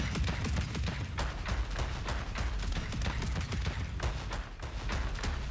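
Default gun firing in the building game Trailmakers: a rapid, relentless stream of sharp shots that hammer on without pause, loud and close.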